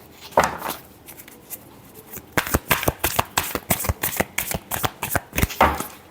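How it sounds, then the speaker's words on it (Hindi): Tarot cards being shuffled by hand, a dense run of crisp riffling flutters that quickens into a steady rapid patter, close and clear with no talking. "Last shuffle."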